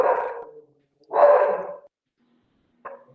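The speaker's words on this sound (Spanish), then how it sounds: "Si escuchan es mi perro." A dog barks in a few loud, close bursts, two long rough barks followed by a short sharp one, with silence between them and no talk.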